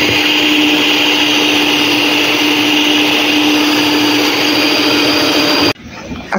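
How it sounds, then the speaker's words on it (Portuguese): Electric mixer beating egg whites for a cake, a loud steady whirring motor drone with a constant whine that runs without a break, then stops abruptly near the end. "Vou bater agora as claras e já volto com vocês."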